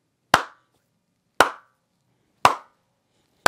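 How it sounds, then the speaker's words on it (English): Four sharp hand claps spaced about a second apart in an untreated room without acoustic panels, each ringing out with a short, bright reverberant tail and harsh reflections before silence. "Check out the nasty reflections and reverb on this clap with no acoustic panels."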